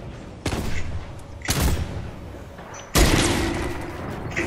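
Light machine gun firing in Fortnite: three loud, close bursts of gunfire with short pauses between, the last one longest and trailing off.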